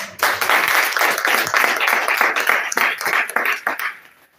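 A church congregation applauds for the Lord at a French-language service, a dense, steady burst of clapping lasting several seconds before fading out.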